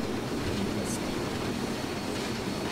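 Steam locomotive running in Train Simulator 2017, a steady, moderately quiet rolling rumble with continuous track noise and a brief hiss partway through.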